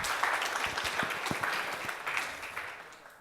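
Applause from a conference audience welcoming two speakers to a talk on SNARKs for virtual machines, moderately quiet and steady clapping for a few seconds with no talk over it.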